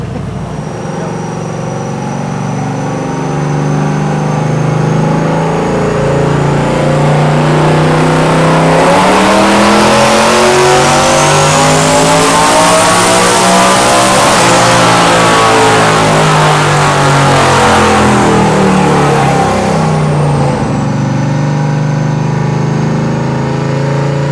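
A heavy truck engine on a dynamometer revs up hard under load at about 17 psi of turbo boost, its pitch climbing steadily to a loud peak, then winding back down. There are no voices.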